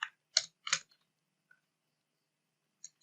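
Typing on a computer keyboard: a handful of sharp, close keystrokes bunched near the start, then sparse faint taps with long quiet gaps between.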